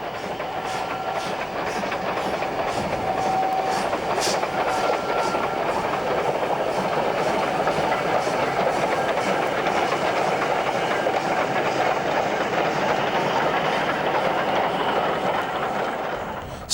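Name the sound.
North Yorkshire Moors Railway train passing through Newtondale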